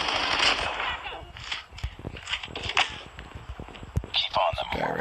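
Rapid automatic gunfire in the Call of Duty Mobile shooter game crackles in quick bursts, with sharp single shots and distant reports mixed with game voices and a player talking over the action.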